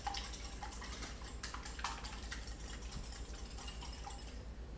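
Eggs mixed with parsley in a bowl, a faint, rapid, steady clicking and rattling of the whisk against the bowl, continuous for about five seconds with no talk.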